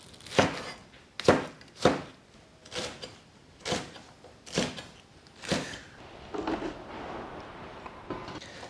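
A kitchen knife chops a celtuce stem into segments on a cutting board, about nine sharp, separate thuds at an unhurried, fairly even pace, close and clear with no talking.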